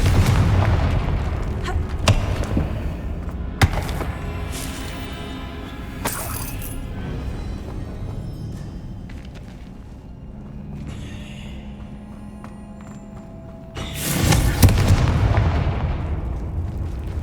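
Fire-spell blasts in Hogwarts Legacy gameplay: several loud booming explosions with sharp cracks spaced through the scene, fading between bursts, with a heavy final blast near the end.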